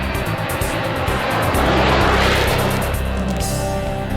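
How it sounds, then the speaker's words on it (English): Loud, close roar of a fixed-wing airplane's engines at takeoff, a dense sustained rumble that swells slightly mid-way and holds steady without voices. "The tower controls the airplane until a few seconds after takeoff."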